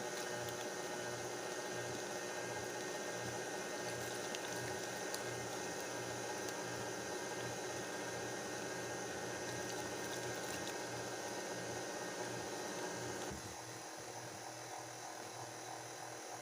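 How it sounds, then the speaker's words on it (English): An electric mixer beats German chocolate cake batter made with powdered buttermilk and water in a bowl, a steady close whirring hum that runs unbroken and eases slightly near the end. "I'm just giving this a thorough mix"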